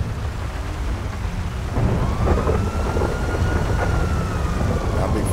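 Thunder and rain in the video game GTA V, with a deep rumbling roll of thunder over a steady wash of rainfall, swelling louder partway through.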